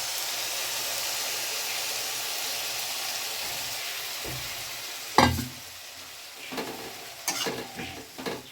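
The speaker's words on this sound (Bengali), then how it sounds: "এই গোলানো গুলোকে আমি এবার এই পেঁয়াজের মধ্যে দিয়ে দেবো।" Onions fry with a steady hiss, then a spice paste mixed with water is poured in, bringing a sudden loud splash and burst of sizzle followed by scattered stirring and spattering.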